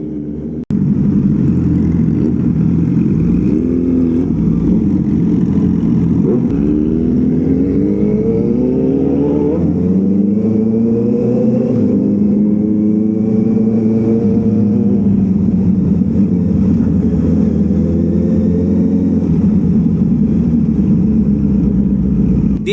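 Big bike motorcycles, including a Yamaha R6 and a Kawasaki Versys 650, drone loudly through a residential street with humps, their engines rising and falling in pitch as they accelerate and shift, close and steady throughout.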